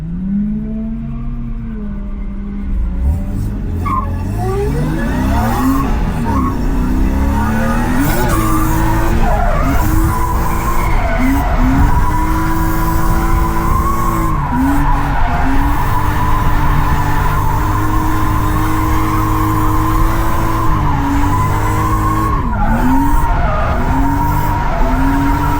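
A BMW E36 M3 drifting, with a loud, continuous tire screech that wavers up and down in pitch over a roaring engine, close and sustained for the whole stretch.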